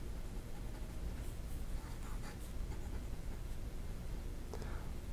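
Pilot Prera fountain pen nib scratching across paper in a steady, continuous close scritch, a few slightly louder strokes near the end, with a faint broadband hiss underneath.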